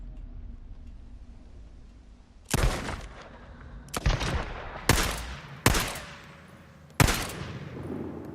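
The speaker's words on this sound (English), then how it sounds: "Oh, I'm going to have to shoot you in the face." Five loud, sharp gunshots ring out one at a time in the video game Days Gone, spaced about a second apart, each ending in a short echoing tail over a low, steady background hum.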